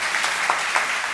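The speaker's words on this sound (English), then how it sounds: "So we can have a round of applause for them as well." Short stretch of moderate audience clapping for the organizing team at a university M.Com and MBA orientation programme, a modest crowd's patter with a few louder individual claps and no talk.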